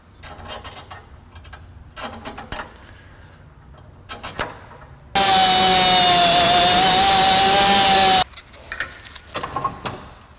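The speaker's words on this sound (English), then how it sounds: "if I drill a hole in that, I think it'll be fine" A power drill bores a hole in an intercooler pipe while turbo cold side pipes are fitted, making one loud, steady whine of about three seconds. Quieter handling clatter comes before and after it.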